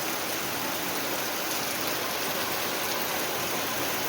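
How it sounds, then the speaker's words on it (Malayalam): Dense, steady downpour of heavy rain in Vagamon, a constant broadband hiss with no pauses and no voices. "ഇപ്പം തന്നെ കണ്ടാൽ അറിയാം, നല്ല മഴയുണ്ട്."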